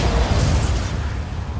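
Bombarda spell explosion in Hogwarts Legacy, a loud booming burst with rumbling low-end that decays over a second and a half.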